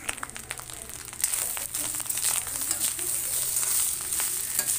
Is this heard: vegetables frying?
yes